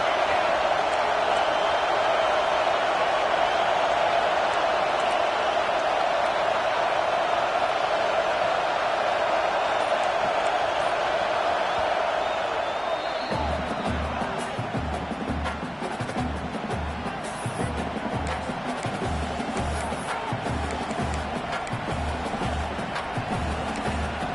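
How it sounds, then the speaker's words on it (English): Roaring stadium crowd in the College Football 26 video game during a goal-line series at Texas A&M, a steady wash of massed noise that keeps going under rhythmic pulsing game sounds in the second half. "This crowd trying to make life miserable for this offense."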